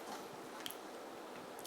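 Someone chews a Portuguese tart up close, the day-old pastry giving faint, soft crunches and a couple of brief crisp clicks.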